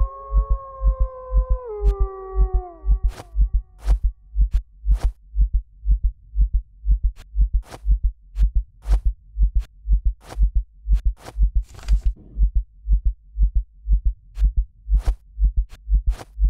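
Loud, steady heartbeat thumps from the video game Tunguska The Visitation, a regular double-pulse rhythm running throughout, with a few sharp clicks and a brief falling howl-like tone near the start.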